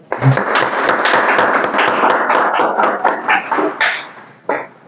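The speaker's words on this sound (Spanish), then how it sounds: "Un aplauso, por favor." An audience at a lecture event claps, a close, fairly loud burst of applause that thins out toward the end.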